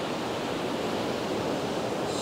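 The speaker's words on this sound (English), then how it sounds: "didn't expect to have splashing out there" Ocean water splashing and surf below a fishing drone out over the sea, a steady broad wash of noise with wind, continuous and fairly loud with no voices.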